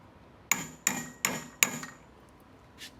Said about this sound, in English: 2 hammers to hammer 1 thing